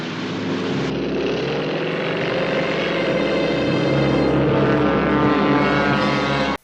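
A loud, steady airplane engine drone, droning close and continuous with a constant hum throughout, no talking.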